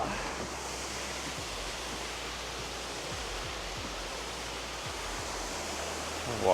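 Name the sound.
waterfall rushing near a wooden bridge on a hike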